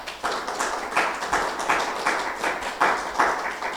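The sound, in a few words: audience round of applause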